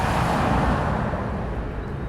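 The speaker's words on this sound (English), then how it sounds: "You'll hear the lorries coming past us now." Heavy lorries roll past close by on a road near East Midlands Airport, a steady broad engine and tyre roar that fills the whole two seconds at a loud, even level.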